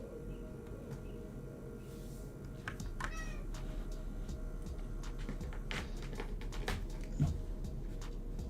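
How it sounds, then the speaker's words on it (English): A cat meows several times in a quiet room, the calls fairly close and clear over a low steady background hum, with a few faint clicks of computer keys. "this cat is being so needy"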